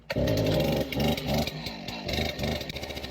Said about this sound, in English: You can pick up your chainsaw, X button to start it.